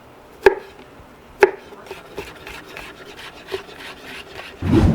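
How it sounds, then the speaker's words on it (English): A garlic clove is crushed with a few sharp knocks and crunches on a hard surface, then its skin is peeled off with a soft rustling scrape at the end, close up with no talking. "crush the garlic, and you could take the little shell off so much easier"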